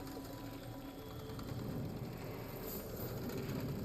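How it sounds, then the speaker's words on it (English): A sewing-machine-like creature in the video game Clair Obscur Expedition 33 stitches away with a steady mechanical whirring and rapid ratcheting hum over dense ambient game noise. "Oh, it's sewing. It's like a sewing machine."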